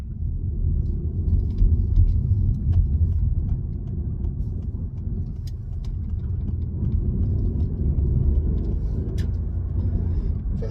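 Steady low rumble of a car cruising along a road, continuous engine and tyre noise with slight swells and no one speaking.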